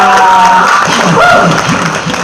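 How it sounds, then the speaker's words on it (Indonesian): Brief applause and clapping from an audience at a Betawi rap performance in Jakarta, loud and close, with crowd noise and voices mixed in. "Tepuk tangan dong"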